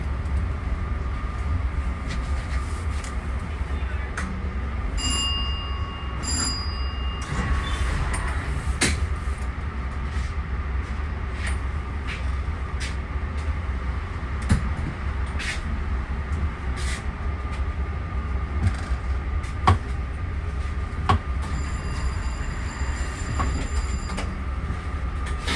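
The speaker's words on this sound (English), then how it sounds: "If you notice an elevated train above, that is the L train stopping at the Atlantic Avenue station" An elevated L train pulling into Atlantic Avenue station overhead, a steady rumble of wheels with repeated metallic clicks, squeals and high brake whines, heard from street level nearby with no talk.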